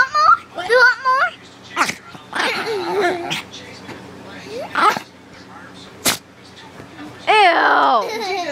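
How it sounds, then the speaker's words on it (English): A dog sneezes once, a sharp burst standing out amid excited voices, whining and playful vocal noises while the dog gets worked up over a brush indoors. "She just sneezed."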